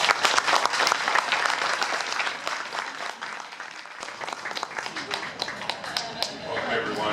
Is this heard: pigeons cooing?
no